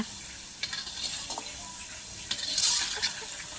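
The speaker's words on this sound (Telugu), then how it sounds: "మాడిపోకుండా ఇలా కలుగుతూ ఉండండి కొంచెం ఎర్రగా" Boondi, small gram flour droplets, frying in hot oil while being stirred, giving a soft continuous sizzle with light scraping stirs and a brief brighter bubbling burst near the end, fairly quiet overall.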